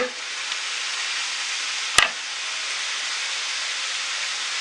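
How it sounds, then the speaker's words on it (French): Continuous bright sizzling of turkey frying in a pan, steady and close, with one sharp crackle pop midway. "Vous entendez comme ça grésille?"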